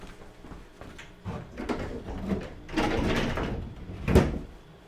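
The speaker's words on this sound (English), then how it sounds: "I'm going to go shut my pocket doors because I can hear the dang fish tank over there." Sliding pocket doors being pulled shut indoors, a rolling rumble building over a couple of seconds and ending in one close, firm thud against the frame.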